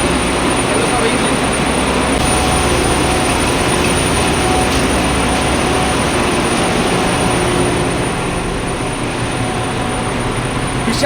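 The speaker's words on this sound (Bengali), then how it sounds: "আমার কথা শুনতে পাবে না, এটা পুরো ইঞ্জিন রুম" Loud, steady roar of heavy engine-room machinery deep inside a large ship, a dense continuous drone and hum filling the space with no pause, a voice talking faintly beneath it.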